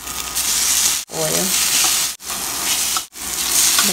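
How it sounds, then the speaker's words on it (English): Chicken and vegetable patties sizzling on a hot griddle, a loud continuous hiss broken by brief silent gaps, with faint scraping and clinks over the frying. "So griddle lang natin siya."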